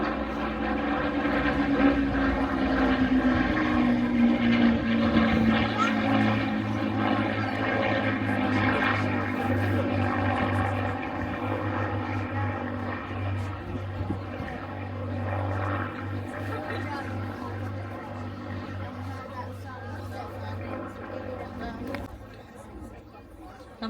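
Vintage propeller aircraft of the Battle Memorial Flight passing at the Cosford Air Show, a loud droning piston engine with a sweeping pitch shift as it goes by, fading gradually over crowd chatter and talk.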